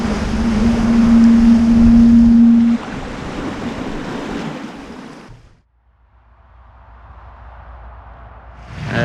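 Sailboat wake and sea rushing past the hull in 17 knots of wind, a loud steady wash that drops out briefly and returns as softer hissing water.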